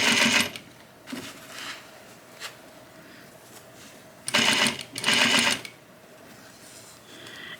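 Domestic sewing machine stitching binding onto a jacket, several short loud bursts of rapid needle chatter separated by quiet pauses, with a faint steady motor hum between runs.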